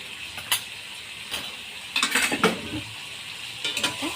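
Ginger and garlic paste stirred and fried in a pan for a local-style meat curry, with a spoon scraping and clinking against metal in several distinct strokes over a steady close sizzle, and no talk.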